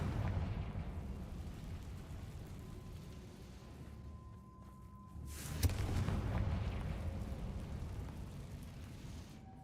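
A Confringo blasting spell explodes in a video game: a deep rumbling roar builds, then a sharp boom bursts out midway and dies into a heavy, lingering rumble.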